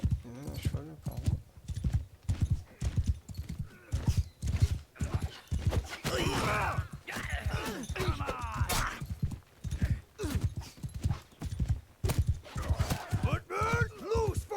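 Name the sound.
horse hooves clip-clopping in Mount and Blade 2 Bannerlord video game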